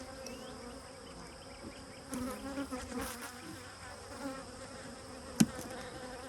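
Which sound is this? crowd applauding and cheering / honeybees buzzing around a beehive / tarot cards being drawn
honeybees buzzing around a beehive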